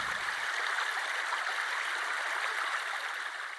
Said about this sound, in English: Then I sat beside a babbling brook